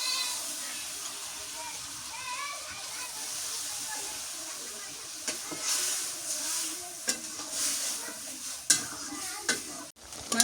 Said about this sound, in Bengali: মাংসটা কষাই নিলাম ভালো করে,